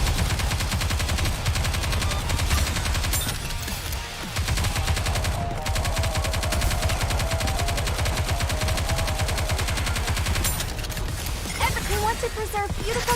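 Rapid automatic gunfire from the mobile shooter game Nikke rattles on almost nonstop in fast, even bursts, loud and close, with character voices speaking over the shooting.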